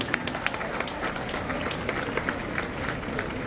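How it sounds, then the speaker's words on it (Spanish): Brief burst of audience applause at a formal address by Spain's ambassador to Mexico, a steady patter of many hands with distinct individual claps, fairly close. "Un aplauso desde aquí para Jenny."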